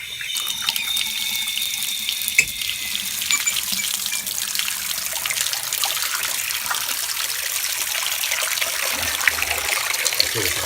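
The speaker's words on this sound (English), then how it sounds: "I'm going to run some more water in here." Water pours steadily from a bathtub tap into the tub, a constant bright rushing splash that stays close and even throughout with no voices.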